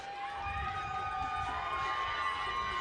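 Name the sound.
UNLV softball crowd cheering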